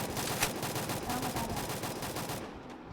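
Rapid gunfire in the video game Free Fire, a dense, continuous automatic burst lasting a few seconds before cutting off, loud and close.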